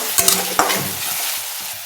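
Chopped onion with a little salt fries loudly in a pan, sizzling steadily up close while a spoon scrapes and stirs in a few quick strokes.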